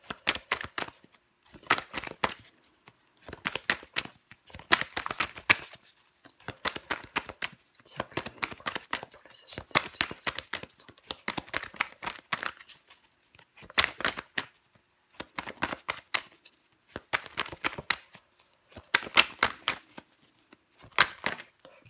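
Tarot cards are shuffled and laid out in repeated quick riffling and slapping bursts, close and steady over about twenty seconds, with no talk.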